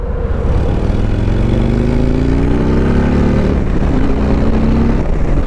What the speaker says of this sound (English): You can hear a little bit of the exhaust.